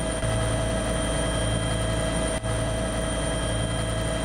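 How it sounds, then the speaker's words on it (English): Bell 212 helicopter engine running in Antarctica, on a passenger and equipment shuttle around the Ross Sea region, giving a steady, loud, continuous low-pitched drone and whine with a brief dip partway through. "These helicopters carry passengers and equipment to field sites around the Ross Sea region on a daily"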